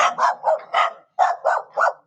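Young puppies bark in a quick series of about seven sharp, high yaps with a short pause midway, close and loud with no talking.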